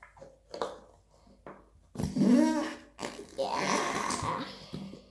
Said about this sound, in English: Makes a fart noise.